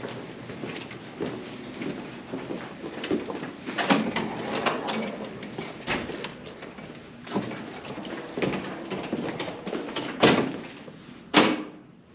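A door in a police building lobby opens and closes, with a few thuds and clunks against steady room noise and shuffling; the sharpest knocks come near the end.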